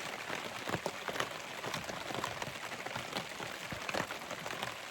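Steady rain patters down at a riverside camp along the Yukon River, a dense, even hiss of drops on surfaces with scattered louder taps, continuous and close throughout, with no talking.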